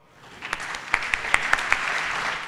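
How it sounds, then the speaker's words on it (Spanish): Audience applause welcoming a keynote speaker at a leadership conference, a steady wash of clapping that swells after a soft start, with several sharp individual claps standing out near the middle. "Lo recibimos con un aplauso, por favor."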